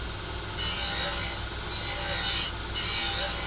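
A pad of 120 grit Scotch-Brite rubs back and forth along a damaged Dalstrong knife blade, making a steady close scraping hiss in repeated strokes.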